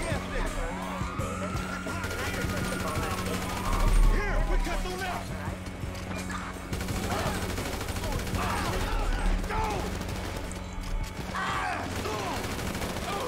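Gunfire in the video game GTA V: rapid bursts of shots and fusillades with mechanical clatter and a passing siren, loud and continuous, under excited talk from players.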